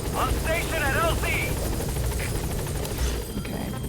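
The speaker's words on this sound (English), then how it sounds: "Support helicopter has arrived." In the video game Metal Gear Solid V, a support helicopter holds a steady, loud rotor drone throughout, with a radio-style voice talking briefly over it before the engine noise continues alone.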